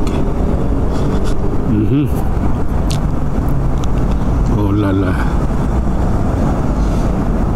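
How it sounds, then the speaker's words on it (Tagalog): Heavy road traffic on EDSA in Makati, a dense continuous engine rumble close by with a couple of passing vehicle sweeps, and a voice speaking briefly over it. "Mga idol, matinding traffic dito."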